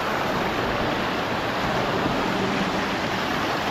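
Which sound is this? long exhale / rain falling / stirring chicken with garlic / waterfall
waterfall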